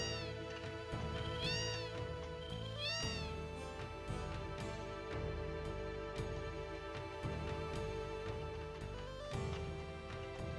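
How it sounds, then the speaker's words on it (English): In the Final Fantasy VII video game, a cat meows repeatedly, several clear rising meows spread over game music, fairly loud and with no one talking. "That cat, maybe that cat moves after we find Yuffie"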